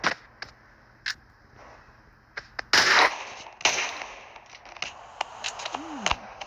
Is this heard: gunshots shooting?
yes